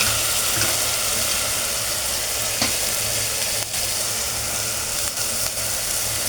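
Chopped spinach and coriander added to cooked onion sizzle and fry loudly in a pan for a dal, with a steady dense hiss and a few faint stirring scrapes.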